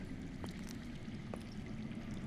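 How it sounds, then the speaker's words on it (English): Underground water flowing in the Game of Thrones Telltale video game, a faint continuous rushing trickle with a couple of soft splashy accents, quiet and distant. "I hear water. From underground."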